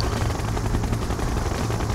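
A siege chopper helicopter in Red Alert 2 produces a steady, dense rotor drone with continuous broadband whir and low thumping, filling the whole stretch at an even level with no voices.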